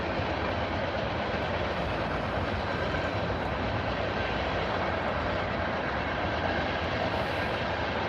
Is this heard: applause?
no